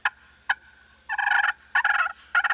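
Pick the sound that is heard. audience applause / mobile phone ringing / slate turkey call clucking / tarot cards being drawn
slate turkey call clucking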